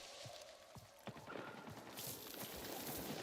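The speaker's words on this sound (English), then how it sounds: "Oh, I hear gunfire." Bursts of rapid gunfire in Avatar: Frontiers of Pandora crackle at a distance, cracks and thuds scattered over a wash of noise.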